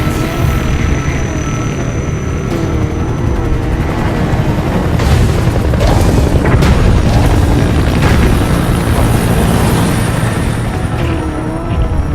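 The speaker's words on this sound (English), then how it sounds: "Extraction arrived. Support helicopter reported." Support helicopter arriving for extraction in Metal Gear Solid V: The Phantom Pain, a dense, loud, continuous roar of rotor and engine noise with rumbling low booms throughout, swelling slightly mid-way.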